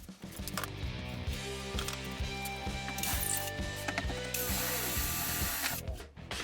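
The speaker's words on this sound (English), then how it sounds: "that allowed me to get a wrench in and tighten the saw down" A wrench ratchets steadily while tightening bolts that hold a mitre saw down to a workshop station, giving a fast, even run of clicks that is close and clear, with no voices.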